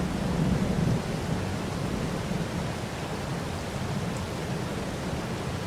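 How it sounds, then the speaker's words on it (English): Rain and thunder in the video game Farming Simulator 22, a dense steady hiss of rainfall with a low rolling thunder rumble at the start, continuous and enveloping with no voices. "I think we'll just come in here and wait for the rain to stop."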